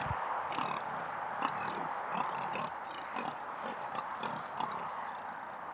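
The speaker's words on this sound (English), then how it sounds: "Another farmyard animal that can be seen in Newark are the pigs." Farm pigs in Newark grunting and oinking in a busy, irregular stream of short snorts at moderate distance, continuous for several seconds with no talking.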